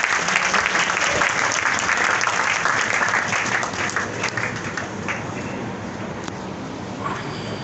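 An audience applauding warmly to welcome the chief guest at an event, with dense, continuous clapping that fills the hall and slowly tapers off.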